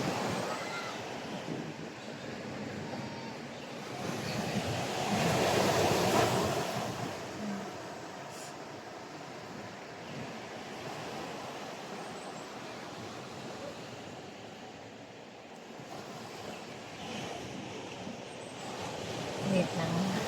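Strong surf rolls continuously onto a beach in Batangas, Philippines, a broad wash with wind noise on the microphone, swelling briefly and then settling into a steady roar.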